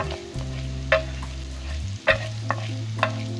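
Ginger and garlic fry in ghee in a pan for potato and egg dish, with steady sizzling and a low hum, broken by several sharp stirring scrapes and clinks of a spoon, close and moderately loud.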